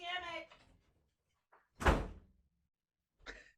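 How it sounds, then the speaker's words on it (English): An indoor door swings shut with a single solid thump, preceded by brief speech and followed by a faint clatter, close and fairly loud. "let me go close that door"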